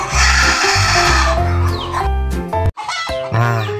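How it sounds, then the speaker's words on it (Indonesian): A rooster gives a run of loud, close calls, clucking and crowing-like cries in quick succession with a short gap near the end, with no talking over it. "Ini namanya ayam jago teman-teman."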